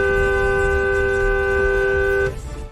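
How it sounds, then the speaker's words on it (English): A loud, sustained car horn blares for about two seconds, then cuts off, leaving road and engine noise. "Despite the first honk"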